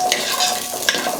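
Small onions sizzle and crackle in hot oil as they are sautéed for bisibelebath, with a brief stir of a spoon in the pan, close and fairly loud with no talk.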